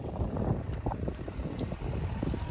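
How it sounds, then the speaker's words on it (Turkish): Strong outdoor wind buffets the microphone in a steady low roar with gusty swells, close and loud throughout, near a flower market in Belgium. "bugün bizim burada çok rüzgar var"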